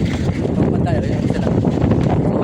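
Strong wind at sea buffets the microphone in a loud, continuous rumble, with sea and boat noise mixed in and indistinct voices underneath.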